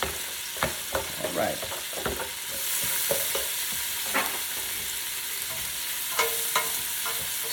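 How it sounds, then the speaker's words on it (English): Onion fries and sizzles in a pot for potato soup, with a steady hiss and occasional clinks and scrapes from stirring. A voice speaks briefly. "I'm gonna put the onion in, put it all in there, just like this."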